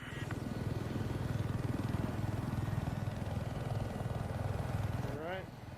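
A helicopter in a Battlefield 4 game round thrums with a continuous low rotor chop, moderately loud and steady, while a voice talks faintly over it and a brief high tone rises near the end.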